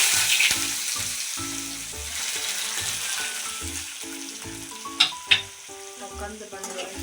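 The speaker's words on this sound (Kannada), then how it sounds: "ಮೊದಲು ಎಣ್ಣೆ ಕಾದ ಎಣ್ಣೆ ಈರುಳ್ಳಿ ಹಾಕಿ" Onion fries in hot oil in a kadai, a steady close sizzle with a few stirring scrapes and two sharper clinks near the end, with no one speaking.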